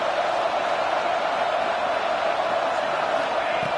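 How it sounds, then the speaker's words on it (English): A dense, steady roar from a packed stadium crowd rumbles without a break in an NCAA 25 college football video game. "listen to this crowd noise. This stadium is vibrating."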